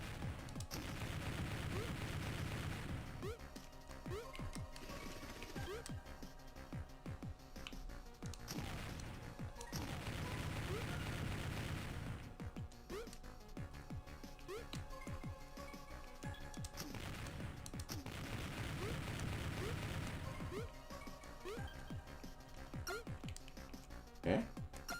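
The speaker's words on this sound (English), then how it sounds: "Oh, that's a rocket launcher." Repeated rocket launcher blasts and crashing explosions in the Game Boy Advance game Jazz Jackrabbit, loud and punchy over continuous looping game music for about twenty-five seconds.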